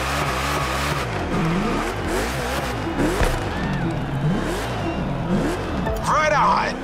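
A Mustang drag racing in The Crew Motorfest, its engine roaring and revving hard through repeated rising and falling gear sweeps, loud and close throughout with a voice talking over it.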